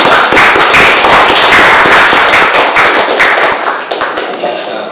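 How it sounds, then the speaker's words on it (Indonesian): Loud, dense applause from an audience right after a presentation ends, a steady patter of many hands clapping that carries on for several seconds and thins slightly toward the end. "tepuk tangan ya"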